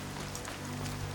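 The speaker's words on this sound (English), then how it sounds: "but now it's raining" Rain falling in the video game Horizon Zero Dawn, a steady, even hiss of drops over a low constant hum, continuous and moderately quiet with no talk.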